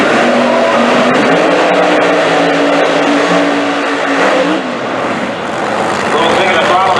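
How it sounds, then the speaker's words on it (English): A screw-blown drag racing car at Orlando Speed World Dragway revs loudly through the tail of its burnout, engine roaring and fluttering close by, with a commentator talking over it. "Little thing in the throttle there by Ayers as he finished up his burnout"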